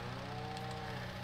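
A cow moos steadily in a farming survival roleplay game, a low sustained call holding for over a second at a quiet, even level with no talking.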